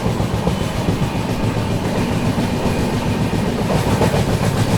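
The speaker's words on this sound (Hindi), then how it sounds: "वो जा रही है वो ट्रेन" Passenger train rolling on rails in heavy monsoon rain, a loud continuous clickety-clack of wheels over rail joints with a low rumbling underneath, heard close by from on board.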